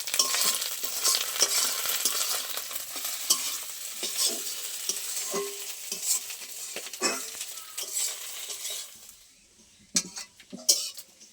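Fish roe frying in oil in a pan until crumbly, a dense continuous sizzle with frequent spatula scrapes and taps close by, fading toward the end before a few final clinks.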